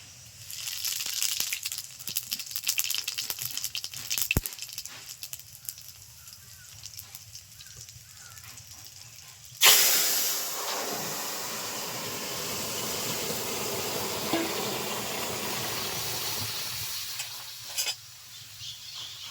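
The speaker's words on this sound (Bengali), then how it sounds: "তেল গরম হয়ে গেছে দিয়ে দিচ্ছি গোটা সাদা জিরে" Whole white cumin seeds drop into hot mustard oil in a kadai and burst into a loud hiss of sizzling that stays strong and steady, following a stretch of quieter kitchen clatter before the seeds go in.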